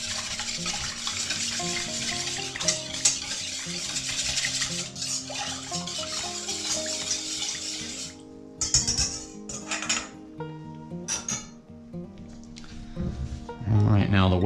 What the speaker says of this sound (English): the oil, and the egg. And I'm going to just beat this together.